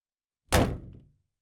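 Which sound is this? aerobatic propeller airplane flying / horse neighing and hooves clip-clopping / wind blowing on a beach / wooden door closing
wooden door closing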